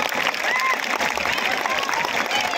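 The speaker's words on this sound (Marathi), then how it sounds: "जोरदार टाळ्या वाजवा फक्त तुम्ही, आणखी जोरात." Audience at a speech clapping hard, a dense, loud burst of applause filling the whole short stretch, with voices over it.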